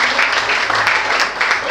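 Audience applause fills a spoken word event in Lagos, a steady, dense wash of clapping that stays loud and close throughout with a little voice underneath.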